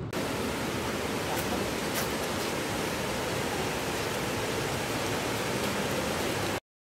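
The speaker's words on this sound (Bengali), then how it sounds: "পাহাড় থেকে বয়ে আসা জলই এখানে একটা সুন্দর ঝর্ণার সৃষ্টি করেছে।" A waterfall formed by water flowing down from the hills, a dense steady rushing roar heard close, continuous and unbroken, with no voices.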